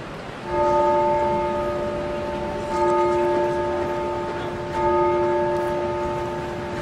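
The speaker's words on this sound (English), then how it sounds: "I need to record the sound of the bell of Notre Dame" Bells of Notre Dame cathedral in Paris ringing in winter, three long resonant tolls each sustaining and fading before the next, heard outdoors at moderate distance over a low street murmur.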